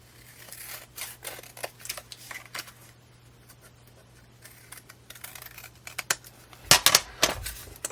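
Scissors trim excess paper or card from the cover of a mini matchbox journal in a series of close, crisp snipping and rustling sounds, finishing with a louder burst of handling noise.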